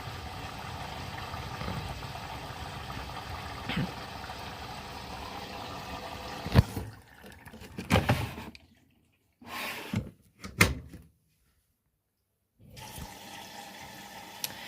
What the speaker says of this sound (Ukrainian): Пішов набір води.